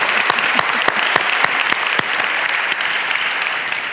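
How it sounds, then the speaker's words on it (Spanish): Live podcast audience applauding at a business interview event, a steady dense wash of clapping with a few sharp individual claps standing out near the start, sustained throughout and not under any talk. "Por favor, un aplauso, que se note que es directo y vivo."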